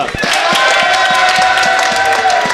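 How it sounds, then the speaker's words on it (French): A live podcast audience in Rennes bursts into loud, close applause, dense overlapping claps with a few distinct sharp hits standing out, sustained and energetic throughout. "on fait un tonnerre d'applaudissements"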